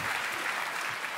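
Applause from a comedy show audience, a dense and steady wash of clapping that holds at an even level from start to finish with no voices over it.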